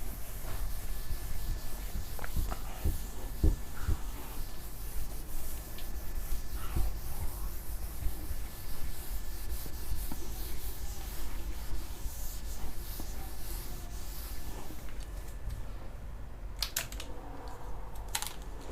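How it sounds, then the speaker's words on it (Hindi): A classroom board is rubbed clean with a duster during a maths lecture, giving a steady, continuous scrubbing and rubbing noise with a few sharper knocks and taps, fairly close and with no talking. "साफ कर देते हैं बोर्ड को।"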